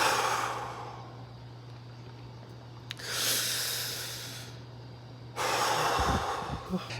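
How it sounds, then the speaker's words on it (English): A person does a deep breathing exercise, taking slow, audible breaths close up, with a long inhale, then a pause, another long breath, and a final strong breath near the end. "I just need to do like my deep breathing."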